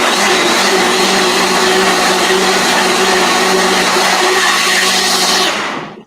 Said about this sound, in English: So I'm putting this back on here on the blender. Here we go. Get ready for another blender dance.